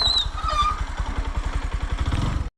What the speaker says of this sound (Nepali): यहाँबाट बाइकमा बसेर जानु पर्ला